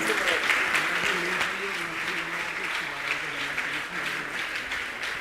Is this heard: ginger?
no